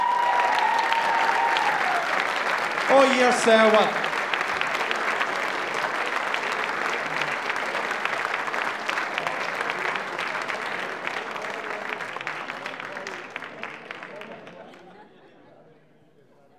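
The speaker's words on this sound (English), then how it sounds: "Give them a big round of applause." A song contest audience at the Pan Celtic International Song Contest applauds the winners, Éire, with loud sustained clapping mixed with crowd chatter and a few spoken words, before it thins and fades out near the end.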